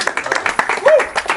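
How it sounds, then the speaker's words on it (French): Audience at a touch event applauds with quick, uneven claps while a voice speaks over them. "vous pouvez aussi vous applaudir vous tous"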